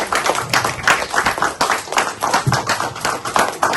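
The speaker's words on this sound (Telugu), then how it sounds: "గట్టిగా చప్పట్లు కొట్టండి వాలంటీర్ల కోసం" Crowd at an outdoor political rally for a bus yatra clapping for volunteers, steady dense applause with rhythmic bursts, loud and close throughout.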